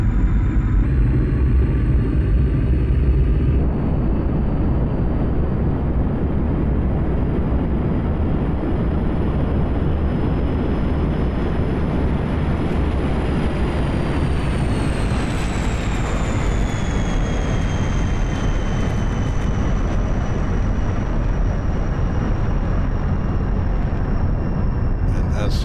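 A MiG-21bis jet flies an airshow display in the DCS combat flight simulator, producing a loud, steady engine roar. A high whine runs over it and bends downward in pitch partway through as the aircraft passes.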